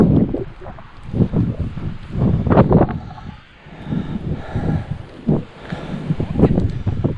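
Strong gusts buffet the microphone at the Valley of Rocks in Somerset, a rough roaring wind that surges and dips in uneven waves, heavy and close throughout.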